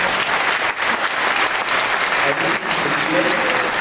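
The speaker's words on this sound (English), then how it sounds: "Can we give them another round of applause?" Theater audience applauding after a stage performance at the Alex Theater in Los Angeles: dense, loud clapping from a large crowd, sustained without a break, with a faint voice under it.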